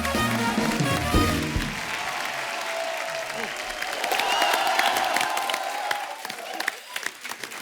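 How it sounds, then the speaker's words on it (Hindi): A studio audience at a Hindi comedy talk show bursts into loud, sustained applause with cheering, a steady wash of clapping that carries through to the end with occasional sharper claps. "एक बार जोरदार तालियां हमारे शाख्स के लिए आइए सर।"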